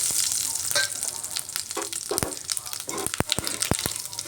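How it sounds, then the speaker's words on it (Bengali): Whole cumin, cinnamon and cardamom crackling in hot oil at the start of a spicy cabbage dish: a loud, close sizzle broken by sharp pops and spatters. "এইভাবে লাল লাল করে ফোড়নটাকে একটু ভেজে নিচ্ছি"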